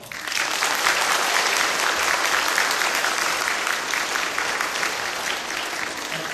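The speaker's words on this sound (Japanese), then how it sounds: "ではまず皆さんで大きな拍手をしましょう。" A primary school crowd of children applauding together, steady thick clapping that continues loudly and evenly for the whole stretch with no talk over it.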